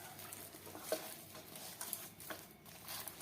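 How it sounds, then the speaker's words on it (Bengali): Spinach paratha dough being worked with oil by hand: soft, close, repeated squishing and patting with a steady rhythm and no talking. "আবারও বেশ ভালো করে মেখে নেব"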